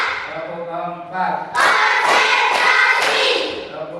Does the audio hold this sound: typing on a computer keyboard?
no